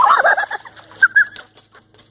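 Ducks being scared off by a woman give a burst of loud, agitated quacking and squawking, then a couple of shorter calls that trail off, with no talk over them.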